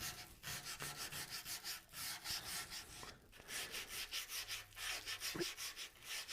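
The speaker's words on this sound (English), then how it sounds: "we can just listen to the sandpaper tear the wood" Sandpaper rubbing against a walnut wood vase in rapid, rhythmic back-and-forth strokes, close and fairly quiet, with a steady pulsing scratch throughout and no talking.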